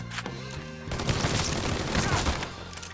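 Gunfire rattles out in the Mafia 3 video game, a dense burst of shots and booms after a brief quieter lead-in, loud and sustained to the end with no speech over it.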